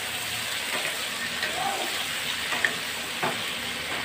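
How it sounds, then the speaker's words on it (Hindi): Roughly chopped medium tomatoes frying in a pan for a tomato chutney, a steady hissing sizzle with faint stirring scrapes and an occasional light tap of the spoon. "सबको एक मरतबा अच्छे से मिक्स करेंगे"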